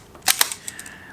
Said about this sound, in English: wind and fire the shutter until the film is being pulled tight